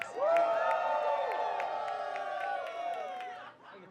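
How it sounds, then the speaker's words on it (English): A show audience at a drag performance night lets out a big cheer, with whoops and shouts swelling quickly and then slowly fading over a few seconds. "So I want to give a cheer just for everyone here"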